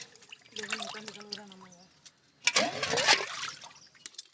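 Water poured over salted fish to rinse it in a home kitchen, splashing and trickling in two close bursts with a quiet gap between, while a person talks.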